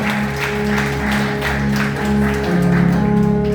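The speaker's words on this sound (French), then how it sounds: "Applaudissez Augustine Jean-Baptiste" Applause from a church congregation at a gospel service, steady clapping sustained throughout over a low droning background.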